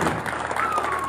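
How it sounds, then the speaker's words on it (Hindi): Loud, dense audience applause from a crowd at a public political gathering, continuous clapping filling the whole moment with no break. "जोरदार तालियां भाई कुलदीप सरोया जी के नाम"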